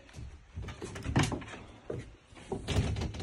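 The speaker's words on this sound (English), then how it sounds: "I'm going to walk through the side door." Side door of a house opening, a few brief knocks and rattles of the door and handle at close range, with no talk.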